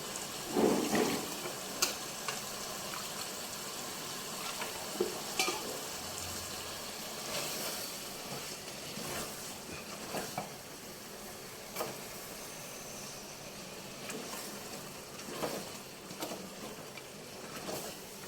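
Ginger-garlic paste frying in a pan for butter chicken gravy, a steady sizzling hiss with occasional stirring scrapes and clinks, close and moderately quiet, no talking.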